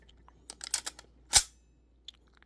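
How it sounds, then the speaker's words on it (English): Close mechanical clicks and rattles from a Classic Army LWRC electric blowback airsoft rifle, then one sharp metallic clack as the bolt release drops the bolt, followed by faint small clicks. "when you press the bolt down, drops it"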